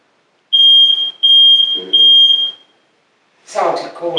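A Welsh farmhouse device gives three loud, steady electronic beeps in close succession, followed by a pause and then a short burst of voice.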